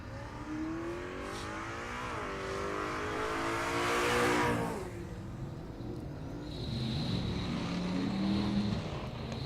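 A drag racing car launches hard down the quarter mile at a dragway, its engine roaring loud and rising in pitch through the gears before fading into the distance, with another engine sound following.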